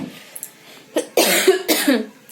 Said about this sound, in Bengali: প্রচণ্ড কাশি হচ্ছে প্রচণ্ড কাশি